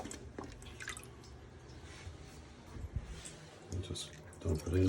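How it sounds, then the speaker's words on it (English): Water draining and dripping from camp plumbing being emptied for winter, soft trickles and drips with a few louder splashy bursts, heard under people talking. "now we got to get all the water out of here"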